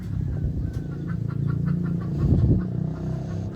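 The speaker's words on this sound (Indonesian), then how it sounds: "Ayam-ayam di belakang rumah semuanya berisik" A flock of backyard chickens clucking steadily, a noisy overlapping chatter with a low rumble beneath, fairly close.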